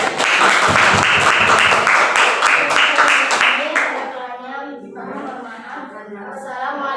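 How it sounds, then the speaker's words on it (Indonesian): A class of students claps steadily for a few seconds, loud and close, then the applause fades out and a voice starts talking. "Tepuk tangan dulu ya."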